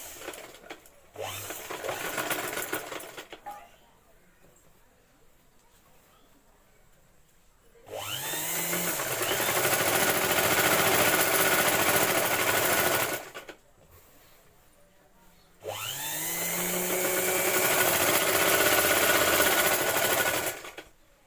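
A sewing machine stitches saree fabric into a long frock, running in sustained bursts of several seconds each with quiet pauses between, steady and close.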